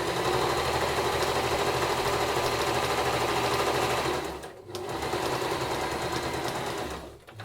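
A sewing machine stitching a 5mm seam on a fabric dog bandana runs in a loud, steady whir close by, pausing briefly midway before resuming, then stopping at the end.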